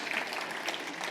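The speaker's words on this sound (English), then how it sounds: "You can clap." Audience at a tech talk applauding, a steady spatter of many hands clapping at moderate volume throughout the short moment.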